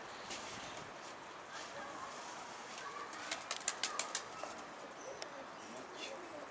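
Pigeons coo softly on a rooftop while a quick burst of wing flaps sounds nearby, with steady wind-like background noise.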